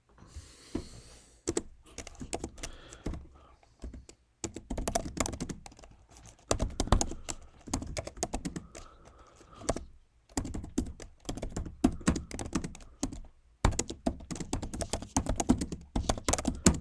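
Rapid, uneven typing on a computer keyboard while writing a document in Word, close clicky keystrokes in bursts separated by short pauses, with no talking.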